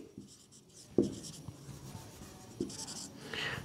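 Chalk or marker strokes scratch and tap across a board in short bursts during a lesson, close and fairly faint, with a sharp tap at the start of a stroke and no speech over it.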